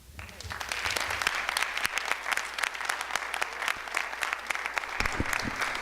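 Audience applause at a school board meeting, a steady burst of many hands clapping that builds quickly and continues fairly close and loud.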